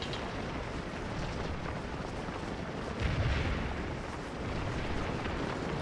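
Cannon artillery in a Civil War battle game, a dense continuous rumble of distant booming fire with a heavier low thud about halfway through, no voices over it.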